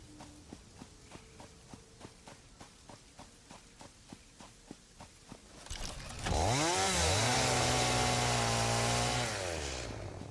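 Chainsaw revving and cutting trees in the video game Satisfactory, loud and close, with a sustained roar and shifting pitch that follows a run of evenly spaced footsteps.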